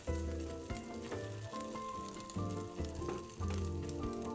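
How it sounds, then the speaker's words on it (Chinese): Egg foo young frying in plenty of very hot oil in a wok, a loud continuous sizzle and crackle alongside background music. "煎这芙蓉蛋，锅要热，油也要多一点，油温也要够热"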